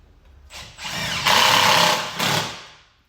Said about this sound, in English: I'm going to use a series of self-tappers just to secure the back of the bottom cover.